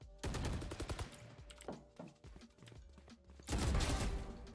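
Gunfire in the video game Valorant: rapid bursts of shots and fast rattling fire, a quieter stretch of scattered shots, then another heavy burst, all fairly close and loud.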